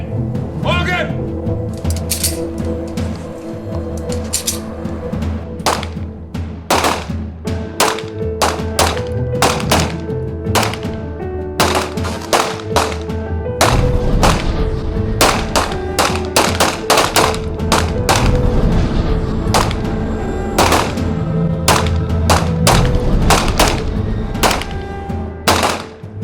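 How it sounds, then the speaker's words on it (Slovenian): Beretta 9 mm pistol shots fired from a standing position at 15 metres on an outdoor shooting range, many sharp loud reports in irregular succession, some overlapping from other shooters, with speech underneath. "Na strelišču na Mlakah streljamo z bareto na 15 metrov iz stoječega položaja."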